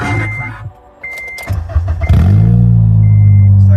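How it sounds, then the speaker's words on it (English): An Acura RSX with 169,000 miles cranks and fires up, a short starter whir with a few chime beeps, then the engine catches into a loud, steady close-up idle. "I can start it up for you here right too."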